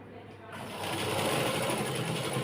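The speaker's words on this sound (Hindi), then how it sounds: "अब चाहें तो 2 सिलाई लगा सकते हैं, एक नीचे यहाँ पे और एक यहाँ तक" A sewing machine runs up close stitching a Farsi salwar, a steady, fast mechanical whir and needle chatter building in after a short quiet start and holding loud to the end.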